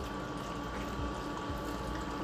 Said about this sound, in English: Now we will add our pasta water to this as well if we need it.